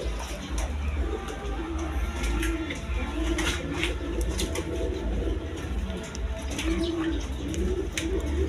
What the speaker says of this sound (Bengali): লার কবুতর আমেরিকান লার কবুতর